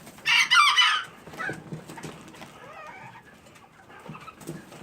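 Chickens in a backyard flock, with a loud, sharp squawking burst from a hen close by at the start, followed by softer scattered clucks and chatter fading in and out.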